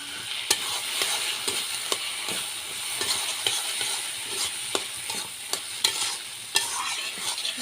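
Pumpkin and bitter gourd fry in a pan for a shukto, the sizzle steady and fairly faint. A utensil taps and scrapes against the pan in regular sharp clicks throughout.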